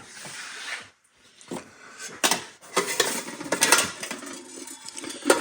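An Asian bowl being handled near the mic, with clinks, scrapes and knocks against other objects in an irregular series of sharp clatters separated by short pauses.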